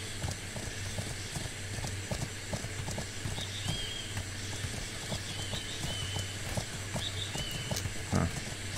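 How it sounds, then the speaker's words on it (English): Horse hooves clip-clop steadily in the survival video game Atlas, a continuous trotting rhythm of moderate loudness over a low ambient hum, with no talk. "but the horse is never stopped"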